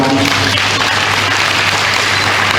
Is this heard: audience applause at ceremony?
yes